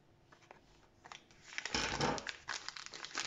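Scissors snipping the tip of a plastic piping bag while decorating cupcakes, heard up close as a few crinkly, crackling plastic rustles and a brief cut, with no talking.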